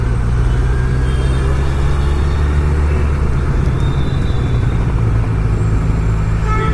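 Road traffic fills a busy area with a dense, steady low rumble of engines, loud and continuous with no break, and no voices heard.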